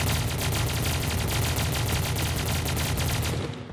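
Dense, continuous automatic gunfire in Call of Duty: Black Ops 3 Zombies, loud and sustained with rapid overlapping bursts for nearly four seconds before cutting off abruptly.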